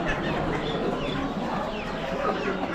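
Hens clucking among other poultry at an Amish animal auction, a steady overlapping chatter of close and distant birds in a busy, noisy setting.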